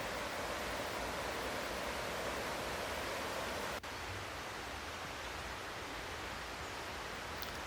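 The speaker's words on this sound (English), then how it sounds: "And here was another waterfall I found right there." A waterfall on the West Fork trail gives a steady, dense broadband rush with one brief tap midway and no voices.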